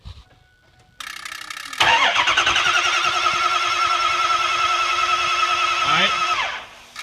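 A 6.0 L diesel engine cranks fast without starting, its starter whirring rapidly and evenly for several seconds after a brief click, loud and close, then winding down.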